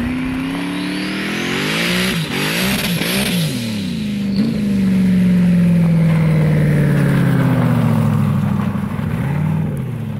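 An LS-swapped Fox Body car roars past on an ice drag strip, engine revving hard through rapid gear changes, then a loud close pass as the pitch sweeps down and fades away.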